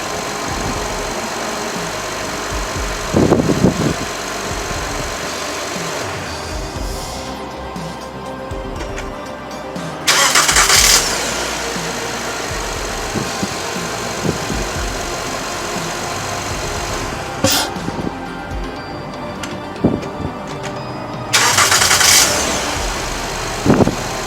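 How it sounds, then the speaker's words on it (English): A car with a damaged alternator that stranded a customer: a steady engine idles throughout, with a few louder bursts and clunks standing out above the running engine and no talking. "So I'm going to start the engine again."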